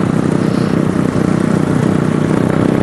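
Yamaha Scorpio bobber motorcycle engine running steadily at night, a loud continuous low rumble with a broadband roar, no pauses and no talk.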